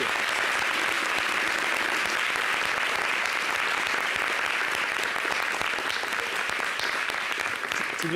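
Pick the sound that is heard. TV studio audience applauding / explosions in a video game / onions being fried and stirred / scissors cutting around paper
TV studio audience applauding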